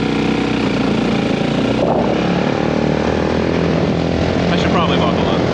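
A go-kart engine revs loudly and continuously up close, a buzzing small-engine drone that rises as it accelerates, with voices speaking over it.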